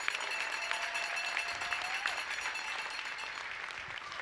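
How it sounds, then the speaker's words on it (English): At an ultramarathon awards ceremony, the crowd gives the event sponsors a steady round of moderately loud applause, a continuous wash of many hands with a faint tone running beneath. "let's give a big round of applause to our sponsors"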